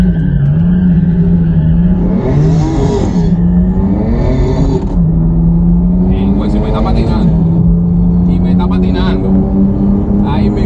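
Sports cars, a Maserati MC20 and a Lamborghini Huracán, launching in a drag race, with a steady engine roar, a tire skid near the start, and excited voices talking and shouting over it throughout.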